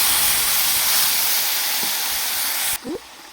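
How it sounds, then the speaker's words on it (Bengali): A loud, steady sizzling hiss as a little water is poured onto fried spice paste in a hot pan for a silver fish curry, cutting off sharply near the end with a couple of soft knocks. "এবার এর মধ্যে দিয়ে দেবো অল্প জল।"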